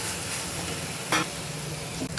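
Onion, tomato and garlic frying in a pan while being mashed, a continuous close sizzle with scraping stir strokes, including a brief louder scrape midway, no talk.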